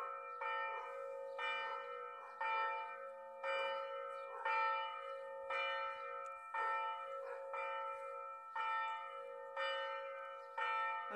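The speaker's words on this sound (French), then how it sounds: "il y a les cloches" Church bells ring out at noon, a series of resonant, ringing strikes repeating in a steady rhythm, each one decaying into a sustained metallic hum, heard from a moderate distance.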